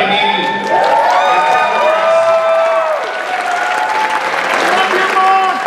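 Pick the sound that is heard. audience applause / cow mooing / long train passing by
audience applause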